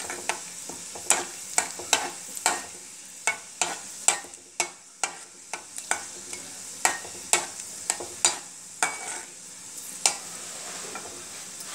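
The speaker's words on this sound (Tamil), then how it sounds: "கிராம்பு இடித்து வச்சது அதில் போடுறேன் பொரியட்டும்" Crushed cloves and cardamom frying in oil for a sweet raw mango pickle, soft frying hiss under a string of sharp, evenly spaced stirring clinks and taps, close by and without talk.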